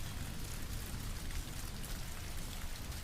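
Steady rain falls in a dense, even wash with a low rumble underneath, suggesting thunder rolling softly far off; the sound holds constant at moderate loudness with no voices.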